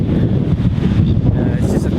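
Strong wind buffets the microphone at Cathedral Cove near Auckland, a loud continuous low roar with gusty fluctuations and no clear speech.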